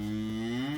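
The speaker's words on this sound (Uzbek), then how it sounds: "Mana ho'kizchamiz." A bull offered for sale at a livestock market in Pastdargom, Samarkand, gives a single loud, sustained low moo with a steady droning tone, close to the listener and heard alone.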